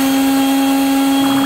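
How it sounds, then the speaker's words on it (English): A leaf blower used as a weapon in a school bully video game gives a loud, steady, even whirring drone with a constant hum that holds for the whole moment. "Leaf blower. Leaf blower."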